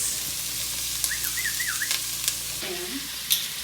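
Onions sizzling in a hot pot for chickpea curry, a constant crackling hiss with occasional stirring clicks and scrapes, a few faint whistle-like tones drifting over it.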